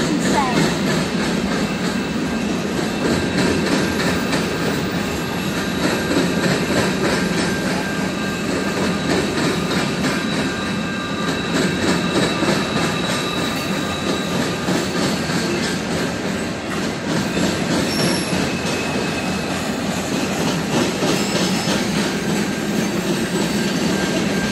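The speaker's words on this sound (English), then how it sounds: "GP38 general purpose engines pulling the train of this size." A long freight train pulled by GP38 diesel locomotives rumbles steadily past nearby in Griffith, Indiana, wheels clattering on the rails with a constant diesel drone and occasional faint squeals.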